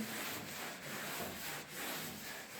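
Hand sanding of a prepared wall surface to rub out high spots gives a steady, close abrasive rubbing with a few gentle swells in strength, continuous and alone with no talk.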